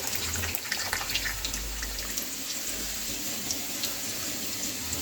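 Water pouring steadily from a tap into a spice paste for a chicken dish, a constant close rush and splash that runs unbroken throughout.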